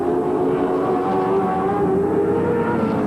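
A Nissan Skyline touring race car racing on track in the 1987 Australian Touring Car Championship at Calder, its engine a steady, loud drone that holds throughout without a break.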